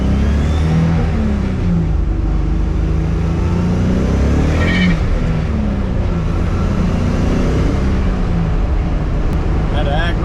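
A turbo Nissan 300ZX with no exhaust fitted drones loudly and continuously while driving, its engine note rising and falling steadily as people talk over it inside the car.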